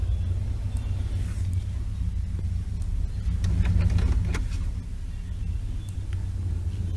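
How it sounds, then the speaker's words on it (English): An old car driving on a highway near Coulterville, California, heard from inside the cabin as a steady, loud low engine and road rumble that swells briefly midway. "Driving my old car"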